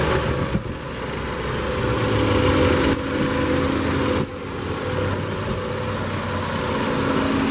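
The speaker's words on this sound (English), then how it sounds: "This one does have the standard engine for 2014, the 2-liter four-cylinder." A 2014 Volkswagen Jetta's 2.0-liter four-cylinder engine runs steadily at idle, a smooth continuous hum heard up close, with brief shifts in level around a couple of moments.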